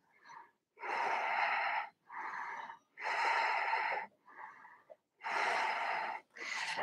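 A yoga instructor holding a balance pose breathes audibly, about five deep, hissing inhales and exhales in an even rhythm, close and clear against silence.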